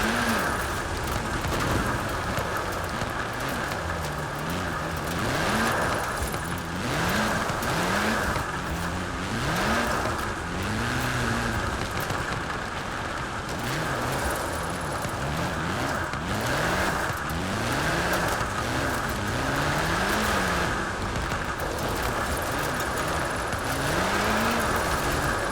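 A tuned Ford GT70, converted to more power and left rear-wheel drive, is driven in Forza Horizon 4 with a loud, continuous engine note that rises and falls through repeated revving and gear changes, with no talk.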